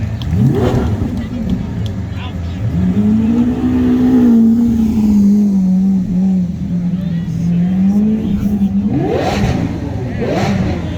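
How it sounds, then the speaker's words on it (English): A 12-cylinder Lamborghini Aventador engine revs loudly and close by, holding a sustained drone that rises and settles, with brief sharper revs near the start and end while a voice talks over it. "That's a 12-cylinder Lamborghini."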